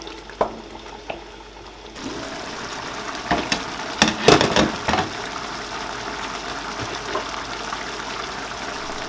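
A tough chicken simmers in a pot in its own water while cooking for Nigerian spaghetti jollof, a continuous soft bubbling and hiss that grows busier after a quiet start, with a few sharper clinks and pops, no voices.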